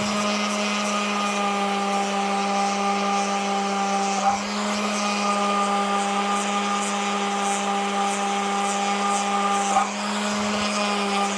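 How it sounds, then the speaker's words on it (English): A power sander with a worn sandpaper pad drones at a steady, loud, even pitch for the whole stretch, with two brief dips where the tool shifts. It runs alone, with no talk over it. "I think this sandpaper pad is starting to go"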